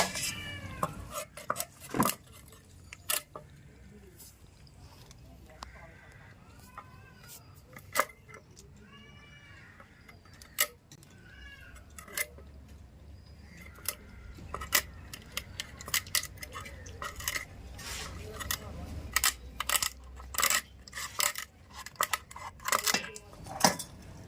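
Mud crabs from the Sundarbans river are washed and cut up close by, giving irregular sharp clicks, knocks and clatters of shell and utensils over a low background, with no talking.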